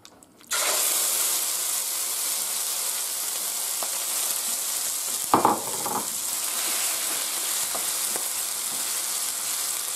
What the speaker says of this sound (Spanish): Una vez que ya está caliente el aceite, echamos el calamar para rehogar.